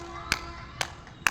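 Three sharp hand claps spaced about half a second apart ring out in a temple corridor at Thiruvaiyaru, each one close and crisp with a short echoing tail.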